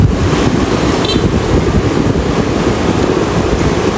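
Ocean surf on a beach in Siargao rolls and hisses continuously, loud and near, with heavy wind buffeting the microphone and no talking.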